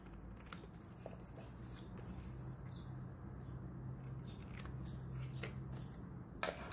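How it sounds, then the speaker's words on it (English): Scissors snip the corners off a 6 by 3.5 inch paper craft tag, giving quiet crisp cuts and light paper rustling close by against a soft background hiss. "I'll go ahead and cut little corners off here."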